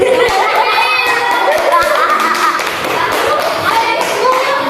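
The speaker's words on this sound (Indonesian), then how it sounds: "Tepuk tangan untuk Mama Ireng." A fourth-grade classroom of children claps with thumping hands and scattered shouts and cheers, lively and close, the noisy burst easing slightly toward the end.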